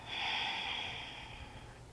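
A single slow, breathy exhale during a lower body yoga session, soft and close, fading gradually over about two seconds.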